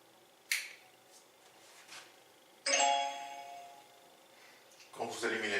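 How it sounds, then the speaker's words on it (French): A Bluetooth E27 screw-base light bulb gives a brief electronic chime as it switches on, with scattered faint clicks and handling noise around it in a quiet room. "Quand vous allumez la lumière, vous entendez ce petit son."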